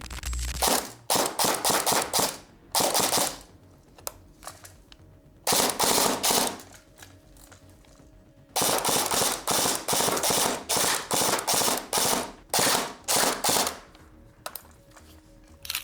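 Bursts of rapid automatic fire from a CYMA MP5 SD6 airsoft gun (CM.041), several sustained strings of shots separated by short pauses, loud and close with a smooth mechanical motor whir.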